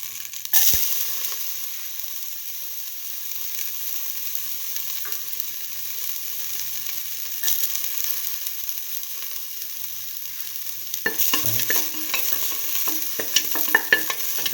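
Ginger sauteing in a pan, a bright steady sizzle that starts suddenly and then holds, with scraping and clattering stirs near the end.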